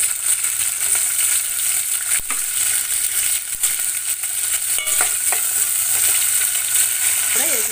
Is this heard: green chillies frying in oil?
yes